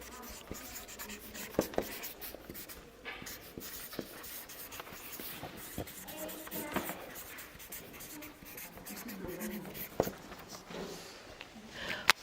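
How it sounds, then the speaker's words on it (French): Pen or pencil scratches steadily across paper, a dense run of short strokes and taps close up for about twelve seconds, with no talk over it. "donc je écris comme ça"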